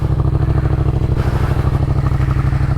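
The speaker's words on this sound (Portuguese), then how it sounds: "Fica mais gostosinho esse ronco." A Yamaha MT-07 motorcycle fitted with a Jeskap K4 exhaust idles loud and close, its deep, evenly pulsing burble thumping steadily throughout with no voices.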